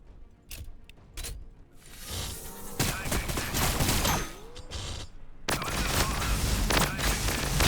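Basilisk Earthshaker artillery barrage in the video game Warhammer Battlesector, a few sharp early bangs followed by building, rumbling volleys of explosions and crackling blasts, loud and dense toward the end.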